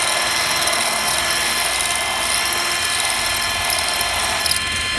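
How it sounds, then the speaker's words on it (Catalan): A drill bores steadily through a sheet of glass, a continuous high whining grind that stays loud and even throughout, with no one talking. "Ara que ja s'ha foradat."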